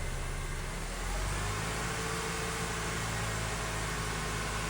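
A car engine revs with no electrical loads on during an alternator charging system test, a steady broadband engine roar with a low rumble that climbs slightly after the first second, close and continuous with no talking.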